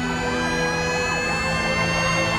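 A fire engine siren wails continuously in steady rising-and-falling sweeps over a loud, constant background rumble, sounding close and unbroken for the whole stretch, with no voices.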